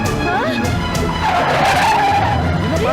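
A vehicle skidding as its brakes fail, a loud sustained tire screech with rising and wavering squeal tones over engine rumble, close and continuous for the whole stretch.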